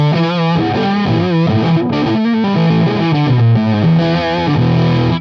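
Electric guitar played through a Fuzz Face pedal, thick and distorted, with chords and riffs ringing out loudly and continuously.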